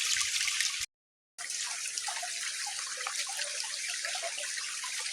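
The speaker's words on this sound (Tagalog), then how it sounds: "kapag maliit yung agos ng tubig, yan yung tinatawag na Batis." Small mountain brook with shallow water trickling and babbling steadily over stones, close and even, with a brief dropout near the start.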